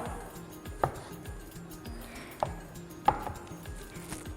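Knife cutting chikoo into cubes on a board, three sharp distinct chops spaced apart over a low humming background, close and fairly clear.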